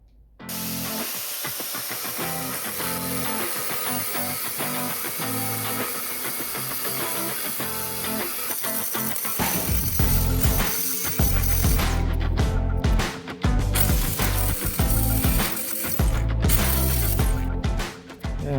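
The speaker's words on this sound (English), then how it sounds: "there'll be sparks flying once I start hitting the rivets with my angle grinder" An angle grinder grinding rivets off a steel bed frame, loud and close with a continuous harsh hissing roar that intensifies midway, broken by a few brief pauses as the disc lifts off the metal, no voices.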